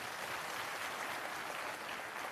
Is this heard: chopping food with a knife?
no